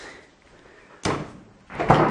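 A door is pushed shut in a kitchen during a puppet cooking demonstration, giving two broadband bumps about half a second apart, the second louder, with quiet room tone before them.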